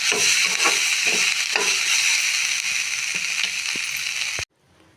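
Garlic and chutney ingredients, including green tomato, roast in a pan with a steady close hiss and soft stirring scrapes, then cut off abruptly near the end.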